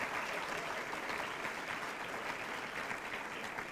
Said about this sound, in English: please a big special round of applause for the Liverpool Catholic Club